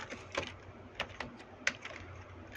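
Irregular, fairly quick keystrokes on a computer keyboard while writing Python code, close and clear with a few sharper taps standing out, and no voices.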